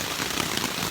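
Hard rain pours outside a trail shelter on the way to Windsor Furnace, a dense, steady hiss of drops drumming on surfaces, close and continuous with no voices.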